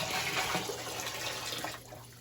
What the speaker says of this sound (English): the bin is like leaning after I pour the water in there